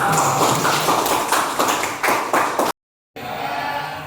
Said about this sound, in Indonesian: Oke, beri tepuk tangan untuk apa?